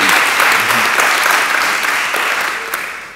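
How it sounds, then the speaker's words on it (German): A lecture audience welcomes a doctor to the podium with loud, close, continuous clapping that tapers slightly toward the end. No one speaks over it. "Und ich bitte um Applaus"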